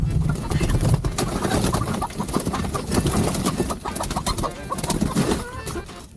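About a hundred chickens packed into a Tesla car cluck and coo densely at close range, with rustling and fluttering throughout.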